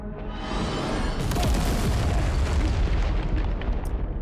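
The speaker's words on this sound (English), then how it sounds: "Sam's just getting repeatedly hit by fucking mortars" Mortar shells pound the ground around Sam in Death Stranding 2, a dense, continuous barrage of heavy booms and rumbling blasts that swells after the first half-second and stays loud throughout.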